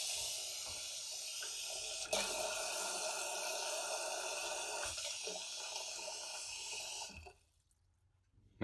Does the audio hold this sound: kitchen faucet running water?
yes